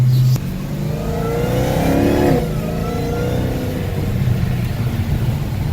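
An Audi R8 RWS engine revs up loudly, climbing in pitch and then dropping back to a steady rumble; close and continuous, with no voices.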